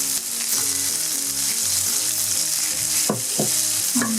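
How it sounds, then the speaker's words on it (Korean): Bok choy and mushrooms stir-frying in a hot pan with garlic, a steady loud sizzle throughout, with a few clinks and scrapes of utensils near the end. "그다음에 요 딱 청경채, 버섯 볶은 거 볶아줍니다"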